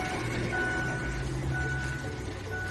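A 2000 Ford Expedition idles nearby with a steady low engine rumble and a slight exhaust manifold noise, and a faint tone recurs over the running engine.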